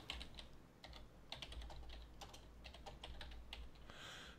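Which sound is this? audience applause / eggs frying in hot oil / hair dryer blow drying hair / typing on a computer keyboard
typing on a computer keyboard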